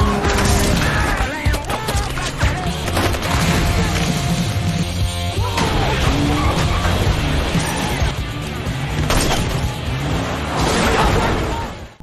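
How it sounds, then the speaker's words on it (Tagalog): Dense, chaotic gunfire bursts at a man driving, mixed with crashes and booms over a loud action film soundtrack, continuous and intense throughout. "habang si Kincaid ay pinaulanan ng putok"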